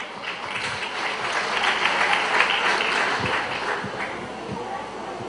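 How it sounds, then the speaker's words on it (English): A warm round of applause for a plenary speaker at a university event, a dense clapping wash that swells in the middle and tapers off, with voices mixed in underneath. "let's all give a warm round of applause to our speaker"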